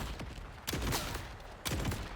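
Torgue gun firing in the video game Borderlands 4, two sharp explosive blasts about a second apart over a dense rumbling bed of game noise, loud and close.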